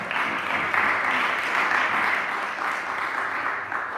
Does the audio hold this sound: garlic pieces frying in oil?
no